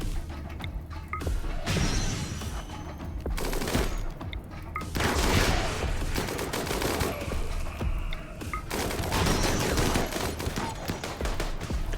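Sustained video game gunfire from Cataphract units, dense volleys of shots and crashes running for twelve seconds with brief lulls, loud and close.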